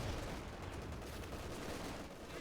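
Sustained MG34 machine gun fire from a Company of Heroes 2 battle, a dense continuous rattle of automatic bursts filling the whole stretch at steady volume with no gaps.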